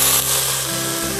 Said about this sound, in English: the onions and the peppers, we're sauteing these on medium heat